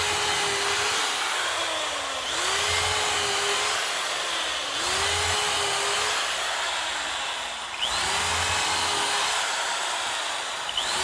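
A power drill bores a pilot hole into very dry old softwood of an attic truss, its motor whining in long steady runs that rise and dip in pitch with brief pauses between passes.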